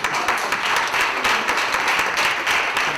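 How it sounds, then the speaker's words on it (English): A lecture audience applauding to welcome a speaker, dense sustained clapping from many hands filling the room, loud and steady for the whole stretch with no voices above it. "Please give him a round of warm applause"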